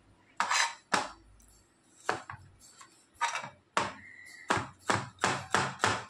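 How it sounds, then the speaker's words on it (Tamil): A knife chops an onion on a board for a brinjal stir-fry, sharp close taps coming in scattered bursts and then speeding into a quick, even run at the end. "கத்திரிக்காய் பொரியல் பண்ணுறதுக்கு வெங்காயம் கட் பண்ணிக்கிறேன்."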